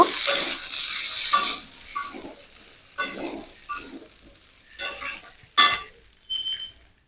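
Ginger paste is stirred in a frying pan in short scraping strokes, with a bright clink of spoon on pan and a sizzle that fades between the bursts, close and fairly loud with no talking.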